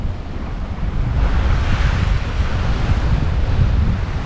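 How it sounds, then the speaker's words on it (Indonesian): Ocean waves roll onto a rocky beach where the surf is fairly gentle, a steady loud wash of water mixed with wind noise on the microphone, with no one speaking. "Ada batunya dan ombaknya nggak terlalu kencang di sini."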